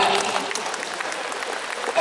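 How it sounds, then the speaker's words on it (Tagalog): An audience at the welcome of a fashion show applauds in a steady, fairly loud wash of clapping that lasts a couple of seconds, with voices mixed in among the claps. "Palakpak kayo ba?"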